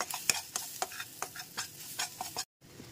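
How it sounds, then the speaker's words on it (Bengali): Gram flour frying in a pan is stirred with quick, repeated scraping strokes that make soft rhythmic clicks and scrapes over a faint sizzle, fairly quiet throughout. "বেসনটাও একটু ভাজা ভাজা করে নেবো"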